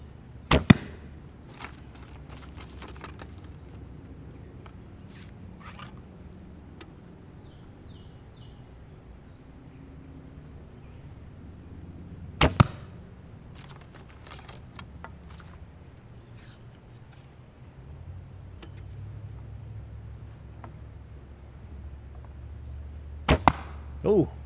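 Arrows are shot from a bow into a blank bale target: three separate releases, each a sharp snap and thud spaced far apart, with quiet outdoor ambience and faint bird calls between.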